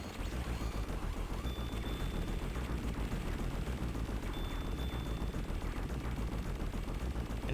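Dense, continuous gunfire while destroying turrets in Phantasy Star Online: Blue Burst, a loud, unbroken rattle of rapid shots and impacts filling the whole stretch, with no talk.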